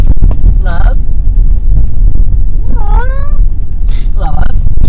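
A Maine Coon cat cries like a baby in three drawn-out, wavering meows, loud and close, over a low rumbling wind-like background.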